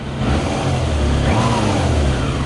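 Yamaha motorbike engine running on whisky fuel with no power, a steady low idling rumble, close and fairly loud, with a slight dip midway.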